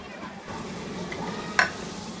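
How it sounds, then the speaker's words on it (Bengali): Chopped garlic frying in two tablespoons of hot oil over medium-low heat, a steady soft sizzle with a brief stirring clatter near the end. "আমি এখানে দুই টেবিল চামচ তেল গরম করে এর মধ্যে রসুনের কুচিগুলা দিয়ে একটু ভেজে"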